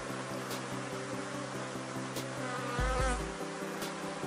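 A swarm of honeybees drones continuously around an open beehive box as the queen is sought, a close, even buzzing with a brief low thump of handling midway.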